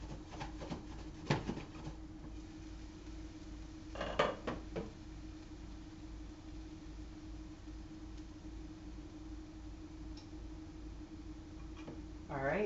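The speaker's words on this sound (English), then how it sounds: "stir these up a little more" Metal utensil clinking and scraping against a pot while pork ramen ingredients are stirred, a few sharp knocks in short bursts over a steady low hum, fairly quiet and close.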